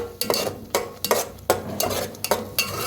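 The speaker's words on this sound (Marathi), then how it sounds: "वाटणला छान असं भाजून घेऊया" Ground masala paste for katachi amti, a spicy Maharashtrian lentil curry, scraped and stirred in a pan as it roasts, with repeated sharp spoon-on-metal strokes at a steady rhythm over a soft background sizzle, close and clear.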